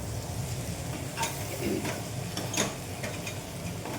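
Taro stolon fritters fry in hot oil, giving a continuous close sizzle with occasional sharper pops and crackles and no talk.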